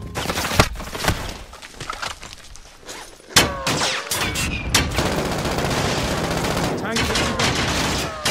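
Video game firefight with hostile gunfire: bursts of automatic weapons and single sharp shots crack in rapid clusters, some loud and close, others more distant, over a busy background with occasional in-game voice callouts.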